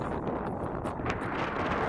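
Strong wind buffets the microphone in a continuous low roar near a SpaceX rocket site, loud and rough throughout with no other sounds standing out.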